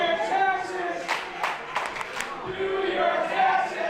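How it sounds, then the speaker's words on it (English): Wrestling crowd at an alley-fight show in New Haven, Connecticut, cheering and clapping in a steady, dense roar with scattered shouts, while an announcer talks over it. "Getting fired up from this crowd here in New Haven,"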